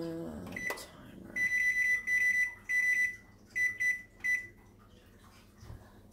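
A kitchen timer gives a run of loud, sharp beeps in short bursts, about half a dozen in quick succession, then stops.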